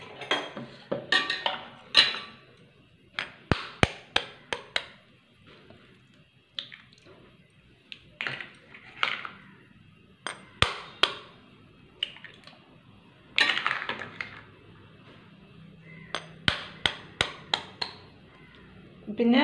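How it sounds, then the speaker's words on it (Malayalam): Four small hen's eggs cracked against a rim and dropped into a mixer-grinder jar for a vanilla tea cake, a string of sharp close taps and clinks in clusters with quiet gaps between them. "ഈ മുട്ട നമുക്ക് പൊട്ടിച്ചിട്ട് മിക്സിയുടെ ജാറിലേക്ക് ചേർത്ത് കൊടുക്കാം"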